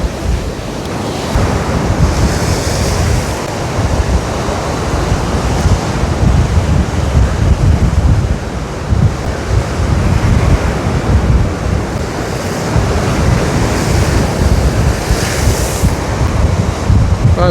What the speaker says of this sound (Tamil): தண்ணி எப்படி அடித்து கொண்டு இருக்கு.